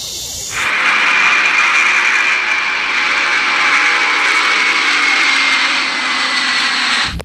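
Steady, loud jet-like airplane engine roar from a toy cargo plane, rising quickly at the start and holding a constant whine before cutting off abruptly at the end.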